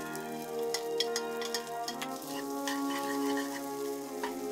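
Rice with green onions and cooked veggies stir-fried in a wok: steady sizzling with scattered scraping and clattering stirs, moderately close, no talk.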